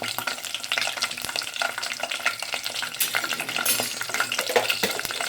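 Curry leaves crackle and sizzle in hot oil for a fish pulusu, with a spoon stirring and scraping the pan, loud and close, continuous for several seconds.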